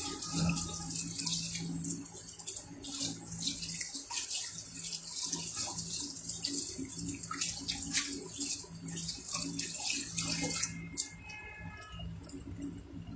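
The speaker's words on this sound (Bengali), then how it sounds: "এই যে আমি হাতটা আগে ধুয়ে নিচ্ছি।" Hands washed under a running tap at a sink, a steady close splash and gush of water with small drips and rubbing squishes throughout.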